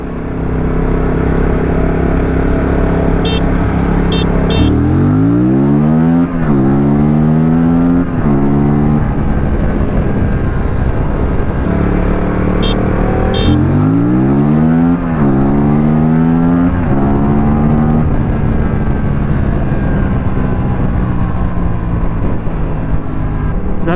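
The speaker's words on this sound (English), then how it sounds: "That was a good rolling drag race between the RC390 and the RS457" A KTM RC390 and an Aprilia RS457 accelerate hard in first gear in a rolling drag race from 25 km/h. Loud, close engine roars climb in pitch through two long surges over a constant wind rush.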